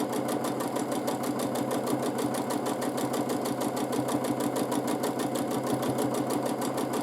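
A sewing machine stitches steadily during free-motion quilting of a blue scrap wall hanging, its rapid, even needle rhythm running continuously and close up with no pauses.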